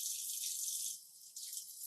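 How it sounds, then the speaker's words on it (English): Water trickles from a container into a baking dish of chili lime chicken, a soft, thin pour that briefly dips and then resumes, quiet and close with no talk. "Or I can add a little water to this too."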